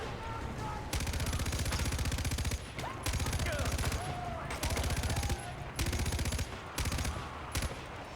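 Sustained light machine gun fire in Far Cry 4 fills the whole stretch, with long rapid-fire bursts broken by brief pauses. It is loud and dense, set against a constant game background.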